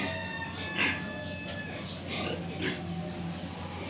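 Pigs in a Cagayan Valley piggery let out a few short grunts and oinks over a steady farmyard background, while people talk nearby.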